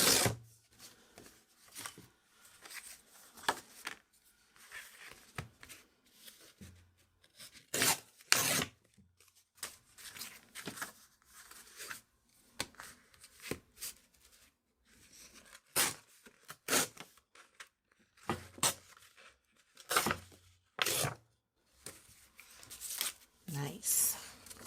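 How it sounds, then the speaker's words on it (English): Sheets of gelli print paper are torn by hand for an art journal collage, with repeated short rasping rips and rustles coming close and fairly loud throughout. "let me tear out the elements here that I think I'm gonna maybe use"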